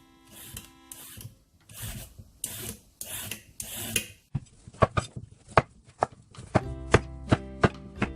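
Scraping strokes of a peeler on a carrot for pork rib soup, a run of quick rasping passes followed by sharper, evenly spaced scrapes, close and fairly loud with no talking.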